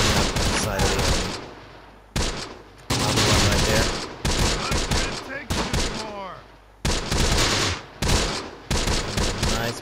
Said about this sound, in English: He's firing up on the side of the enemy.